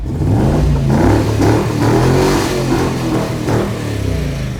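A 1980 V8 Landcruiser with a full fiberglass body revs hard through its exhaust, its engine note rising and falling in loud, close surges with a deep, throaty rumble that carries from start to finish.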